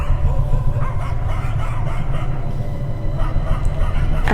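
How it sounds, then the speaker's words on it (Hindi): Dogs barking somewhere outside, several yips and barks rising over a loud, steady low rumble that dominates throughout. "ये कुत्ते क्यों भौंक रहे हैं इतना?"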